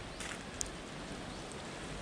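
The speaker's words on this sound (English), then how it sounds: "today on Ulleungdo it's raining" Steady rain falling on Ulleungdo island, a soft continuous hiss throughout with a single brief drip or tap partway through and no voices.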